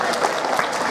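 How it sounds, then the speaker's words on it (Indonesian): Applause from a crowd of SMP 7 junior high students at a school assembly in Jambi, a dense, steady wash of clapping filling the full second with no gaps. "Tepuk tangan untuk SMP 7"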